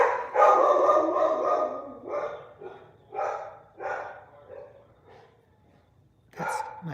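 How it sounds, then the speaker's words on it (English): A dog barks in several loud, close bursts indoors, with short pauses between volleys and a final sharp bark near the end. "That's my dog, Joe"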